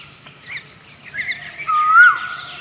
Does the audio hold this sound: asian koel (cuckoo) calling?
yes